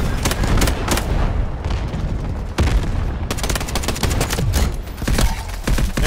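Rapid full-auto gunfire rattles through the shooter video game Delta Force, dense volleys of close, loud shots with brief breaks and heavier booms, while a player's voice comes through faintly underneath.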